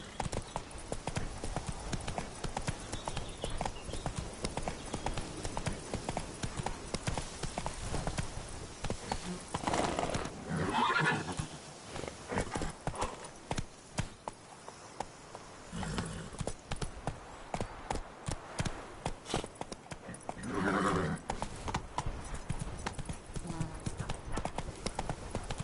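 Roach the horse galloping in The Witcher 3: Wild Hunt, a rapid, continuous clip-clop of hooves throughout, with a couple of louder swells where the pace or terrain shifts.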